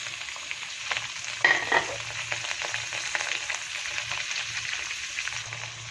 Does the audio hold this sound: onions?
yes